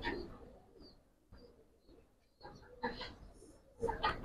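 Giribaz pigeons, including a big male held up for display, give soft, scattered coos among handling noises and faint background voices.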